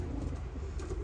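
Racing homing pigeons cooing inside a loft, soft low throaty coos rolling on and off over a quiet indoor background, close and fairly gentle with no voices.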